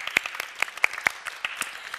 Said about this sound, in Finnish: Annetaanpa hänelle pienet aplodit.